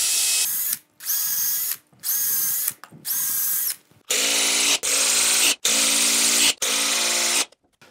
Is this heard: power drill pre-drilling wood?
yes